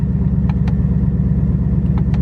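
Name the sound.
Ford Mustang GT 2018 engine with race exhaust mode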